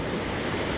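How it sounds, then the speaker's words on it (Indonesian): Hot spring water gushes out at Guci in Tegal, a loud, continuous broadband rush of flowing water heard close up without interruption and without voices. "Tuh sumber mata air panasnya keluar."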